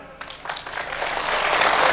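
Audience clapping at a poetry recital, starting with a few scattered claps and quickly swelling into dense, building applause.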